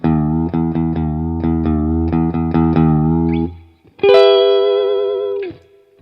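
Electric guitar chords from a Gretsch through a Marshall Valvestate 8080 amplifier strummed in a steady rhythm, then a single sustained note ringing out with a spacious reverb tail that fades away.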